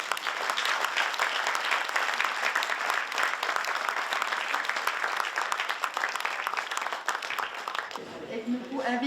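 Audience applause at a Mauritian Creole book launch, a broad, steady wash of many hands clapping for about eight seconds before it fades and a voice begins speaking.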